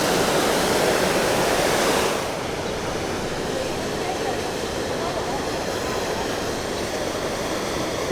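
Rushing water at Niagara Falls: a broad, constant roar of falling water, close and loud, that eases slightly in level partway through and then holds steady to the end, with no clear speech.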